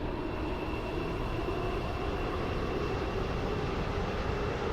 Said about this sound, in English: This is a metro service to Stepford Victoria.